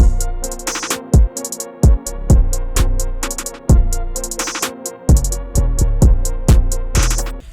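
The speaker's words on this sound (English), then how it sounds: "download one of those melody loops, create crazy drums" A hard-hitting drum beat with punchy kicks and crisp hi-hats pounds over a looping melodic riff, loud and steady with no voices.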